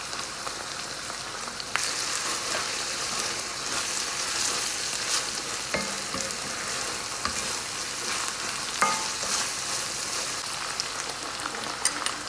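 Minced keema and chopped tomatoes fry in a pan for aloo keema, giving a steady, close crackling sizzle with a few sharper pops and no voices.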